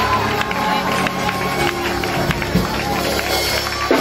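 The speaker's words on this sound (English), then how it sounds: "While you clap your hands" A church congregation claps hands in praise during a service, a loud, busy run of overlapping claps mixed with voices and music.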